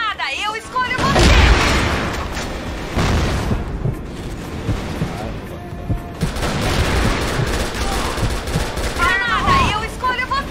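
Rapid bursts of gunfire and booming grenade explosions from the video game CrossFire in sniper mode, dense and loud, repeating almost continuously throughout.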